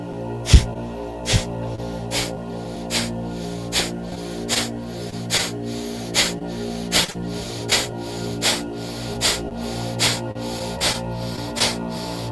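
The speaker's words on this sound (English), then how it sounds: "In the nose, out the nose. Now breathe in. And forcefully exhale and begin." Forceful nasal exhalations during a breathing exercise come as short, sharp snorts, about sixteen evenly spaced bursts at a steady quick rhythm, close and clear over a quiet background.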